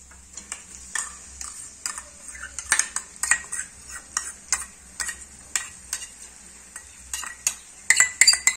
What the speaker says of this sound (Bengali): এই যে মশলাটা দিয়ে তেল ছাড়ছে, মানে মশলাটা ভাজা হয়ে গেছে ভালো করে